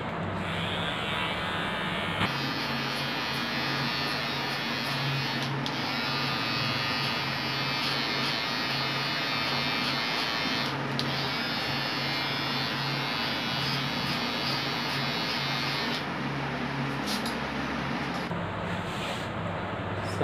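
Electric hair clipper fitted with a 6 mm guard buzzing steadily close by during a self haircut, a continuous loud hum with brief shifts in tone as it moves through hair, no speech.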